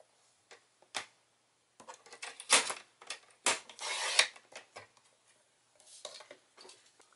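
Paper for a birthday card panel is cut on a trimmer: a scattering of close, quiet clicks and taps, then a few brief rasping slides of the blade, with no talk.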